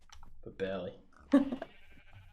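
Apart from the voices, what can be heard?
sheep bleating in Minecraft, video game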